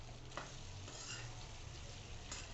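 A raw mango mixture with red chilli powder and turmeric is sautéed in a pan, a soft continuous sizzle under quiet stirring scrapes, close and fairly faint.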